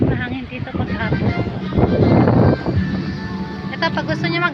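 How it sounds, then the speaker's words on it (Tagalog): Gusty afternoon wind roars across the microphone at an outdoor spot with trees and rental cottages in Angat, Bulacan, while people talk over it, the blowing swelling in the middle before easing. "mahangin dito paghapon."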